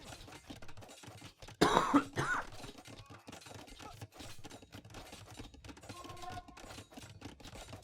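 A game commentator coughs in a short, harsh burst of two or three coughs close to the microphone, followed by quieter throat sounds and faint keyboard clicks.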